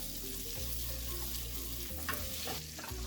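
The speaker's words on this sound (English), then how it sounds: "scrape all the hamburger from the bottom of the pan because that's all flavor" Butter melting in a pan as browned hamburger bits are scraped from the bottom, a close, steady frying sizzle with scraping strokes and no speech.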